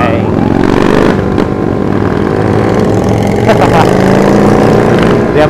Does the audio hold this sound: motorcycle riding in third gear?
yes